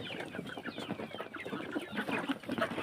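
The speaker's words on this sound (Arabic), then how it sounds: "حطينا الاكل للبط والفراخ" Chickens cluck and murmur close by while eating clover set out for them alongside ducks, a busy, overlapping stream of short calls with scattered bird chatter and no speech.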